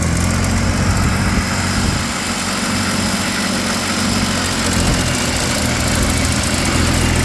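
A John Deere 322 lawn tractor engine with a governor problem runs at throttle, giving a loud, continuous close-up drone with a dense rumble and a steady mechanical roar throughout.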